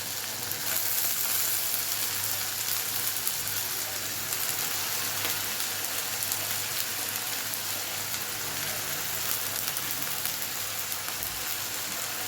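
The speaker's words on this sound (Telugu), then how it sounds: "ఇప్పుడు కొద్దిగా వేగాక వంకాయ ముక్కలన్నీ వేసేసుకోవాలి." Eggplant pieces fry in hot oil, giving a steady, dense, close sizzle that holds evenly throughout with no pauses.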